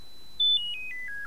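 A pure sine tone generated in GNU Radio steps downward in pitch through several short levels, clean and electronic with no voices.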